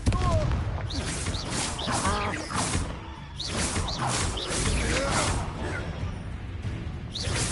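A Confringo fire spell bursts in Hogwarts Legacy as a string of blasting, crackling impacts and whooshes, layered over game voices that talk and call out throughout.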